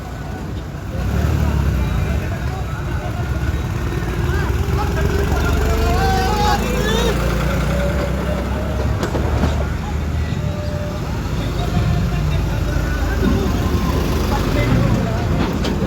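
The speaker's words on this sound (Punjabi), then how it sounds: "ਕਿਸਾਨ ਟਰੈਕਟਰਾਂ ਤੇ ਜਿਹੜੇ ਦਿੱਲੀ ਰਵਾਨਾ ਹੋਣ ਲਈ ਜਾ ਰਹੇ ਹਨ" Farmers' tractors set off in a convoy from Kalanaur toward Delhi during a farmers' protest, giving a steady, close, low engine rumble that runs throughout while people talk nearby.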